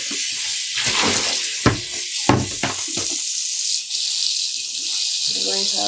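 Water poured out of a container of freshly dyed yarn, splashing and gurgling in several uneven bursts with sharp knocks, over a steady background hiss.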